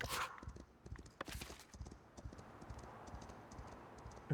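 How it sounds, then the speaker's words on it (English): Hoofbeats of a courier's horse in the city-building game Foundation clop steadily at moderate volume throughout, with a soft clatter behind them. "Oh, I hear horse hoofbeats."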